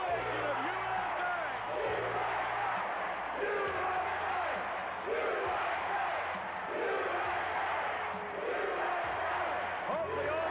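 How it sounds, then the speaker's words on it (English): A wrestling arena crowd chants "USA" for Hacksaw Jim Duggan, a rhythmic, repeating roar heard faintly from a distance as a steady wash of massed voices. "All ringing in the same ovation of USA!"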